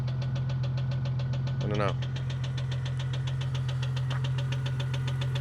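A Jeep Cherokee 4.0 engine idles steadily with a fast, even ticking from a worn lifter, close and constant, with one brief stumble partway through and a short spoken remark over it.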